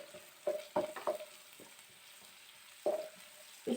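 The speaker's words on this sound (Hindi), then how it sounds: "इसको हम यहाँ पे सिर्फ 1 मिनट के लिए फ्राई करेंगे।" Chopped spring onion for a chicken spring roll filling crackles in hot oil, with a few sharp bursts of sizzle and stirring scrapes separated by quieter gaps.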